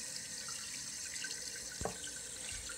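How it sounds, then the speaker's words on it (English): Water runs steadily into a toilet tank being refilled during a repair of a constantly running toilet, a continuous filling rush with a brief gurgle partway through and no talking. "Turn on the water."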